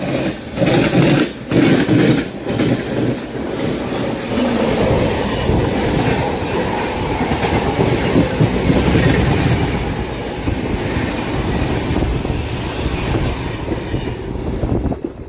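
A MEMU passenger train runs on the Kakinada to Visakhapatnam line near Tuni, heard from on board as a loud, continuous rumble with rhythmic clickety-clack of the wheels over rail joints, with no talking.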